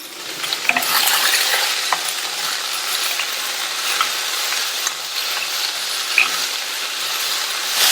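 Onion and ivy gourd sautéing in a pan, a steady bright sizzle with repeated scraping stirs and occasional light metallic clinks, close and continuous with no talk.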